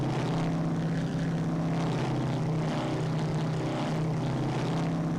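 Steady, loud drone of the B-26K Counter Invader's propeller engines in the Strike Fighters 2 combat flight game, with a constant hum and layered harmonic throb continuing unbroken throughout.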